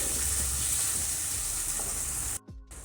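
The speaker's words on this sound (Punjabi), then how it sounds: "ਟਮਾਟਰਾਂ ਨੂੰ ਅਸੀਂ ਸੌਫਟ ਹੋਣ ਤੱਕ ਪਕਾ ਲਵਾਂਗੇ" Finely chopped tomatoes sizzle and fry steadily in a pan, a close, continuous crackling hiss that cuts off abruptly near the end.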